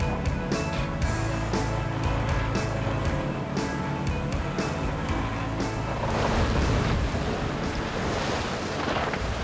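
Rough seas batter an octopus fishing boat working its pots, with loud, continuous rushing and crashing waves, gusting wind buffeting the microphone and the rumble of the boat throughout.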